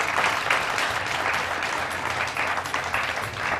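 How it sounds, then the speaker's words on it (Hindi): A studio audience claps on the set of a Ramadan iftar television broadcast, a brief, steady burst of many hands at moderate volume with slight rhythmic swells. "इसके लिए तालियाँ होनी चाहिए"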